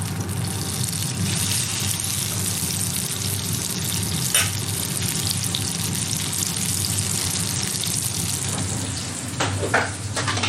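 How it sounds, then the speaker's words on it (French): A whole piece roasts in a pan with a continuous, dense sizzle that sounds like running water, heard up close and steady, with a few brief knocks near the end. "on va le rôtir entier maintenant, comme une pièce de viande"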